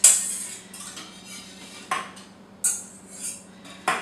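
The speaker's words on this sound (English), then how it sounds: "we're making our creme patisserie on a medium heat, constantly whipping" A whisk clinks and scrapes against a pot while creme patisserie cooks over medium heat, with a few sharp metallic taps between the softer swishing strokes.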